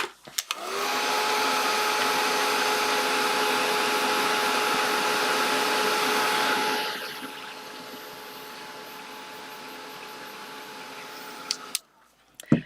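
A hair dryer blows steadily on asphaltum floated over an artwork, a loud close whir that runs for about seven seconds, then drops to a softer hum before switching off.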